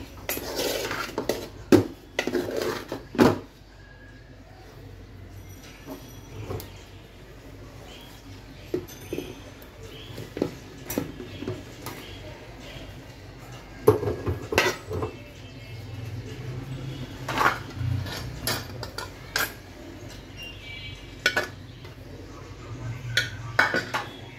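Vegetables being stirred in a pan with a utensil, giving intermittent scraping and clinking metal knocks in irregular bursts, fairly close, with no talking over them.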